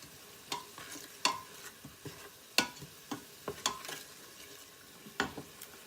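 Salted chopped vegetables are stirred as they brown in a pan. A soft sizzle runs under a series of sharp, irregular scrapes and taps from the utensil, quiet and close by.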